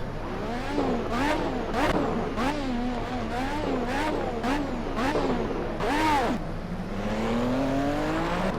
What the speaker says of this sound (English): That's not me revving it, because if I were revving it, it would sound like this.